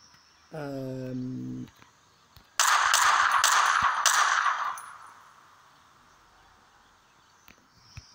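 Video game gunfire in a modded shooter: a burst of several loud, sharp shots packed into about two seconds, each clang-like crack ringing briefly, followed by a fading tail, with a short tonal game sound just before and no talking.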